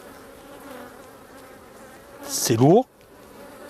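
Honey bees hum steadily around an open hive with frames exposed, a constant drone that swells into a sharp, rising buzz of a single bee passing close, while a person speaks briefly.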